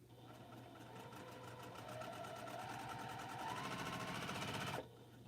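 A sewing machine runs steadily through a quilt piece with an even mechanical pulse of needle strokes, nearby and moderately loud, stopping suddenly near the end.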